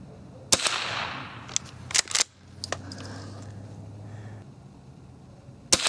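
An old .22 rifle fired at a 25 target outdoors: several sharp, fairly close cracks spaced irregularly over a few seconds, with quiet gaps and faint ambient noise between them.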